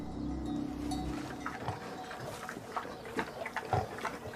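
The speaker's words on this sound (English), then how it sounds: "Pigs and cows, sheep and goats, domestic animals." Pigs and other domestic farm animals, grunting and oinking in a short, close series of calls over a low rumble of background noise.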